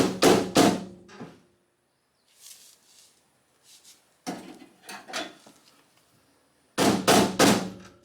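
A mallet strikes rivets on the door of a 1977 Camaro Z28 in sharp, close bursts: a quick cluster of three blows at the start, a few faint taps, then two more loud clusters with quiet gaps between them.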